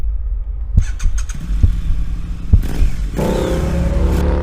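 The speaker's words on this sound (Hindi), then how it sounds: "मैंने मौका देखकर बाइक सेल्फ से स्टार्ट की और तेजी से भाग निकला।" A motorcycle fires up on its electric self-starter with a few clicks and cranks, then the engine catches and revs loudly as it speeds away, rising to a sustained roar close by with no speech.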